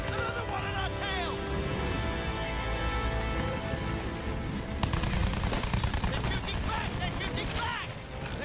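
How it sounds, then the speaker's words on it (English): Heavy gunfire from enemies in Battlefield 1, dense rattling machine-gun bursts that keep up steadily and grow sharper in the second half, loud and close over engine and battle noise. "They're shooting back!"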